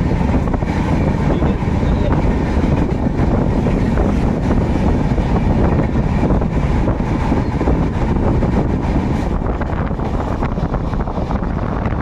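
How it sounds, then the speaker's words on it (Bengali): Passenger train pulling out of Cuttack Junction on the Bhubaneswar–Cuttack line, heard from on board as a loud, unbroken rumble and rattle of the carriages with heavy wind buffeting. "তো এখন আবার ট্রেন ছেড়ে দিল, ট্রেন ছেড়ে বেরিয়ে যাচ্ছে।"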